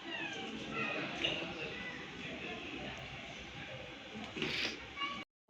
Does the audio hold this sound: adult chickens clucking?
no